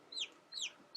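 A broody hen sitting on her eggs gives soft, short clucks, two or three brief rising-falling notes spaced about half a second apart, close and fairly quiet against a near-silent background.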